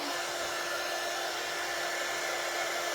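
A hair dryer blows steadily on a handmade Christmas craft item meant for craft shows, a continuous loud whooshing roar with an even tone and no talking.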